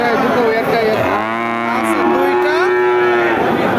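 Cattle at Satmile livestock market, where bulls and bull calves are sold, moo loudly and close by in one long drawn-out call, with faint crowd noise in the background.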